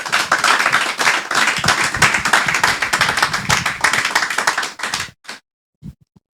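A church congregation claps loudly and continuously for about five seconds, dense and close, then stops abruptly, leaving a few isolated claps and silence.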